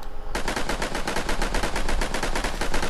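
Rapid automatic gunfire from a dinosaur egg hunting video game, a loud, continuous burst of shots starting abruptly after a brief quiet moment and sustained without pause.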